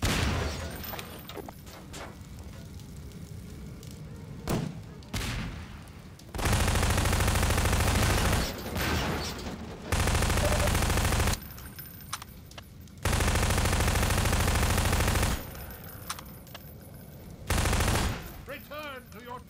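Rapid bursts of small-gun fire in the video game Half-Life 2, loud stretches of automatic shooting lasting a second or two each, broken by quieter gaps with a few single shots and faint talk.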